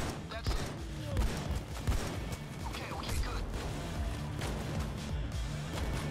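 Shotgun fire in the heist video game Payday 2, dense bursts of blasts and crashing impacts through a busy, continuous combat mix, with a voice talking over the action.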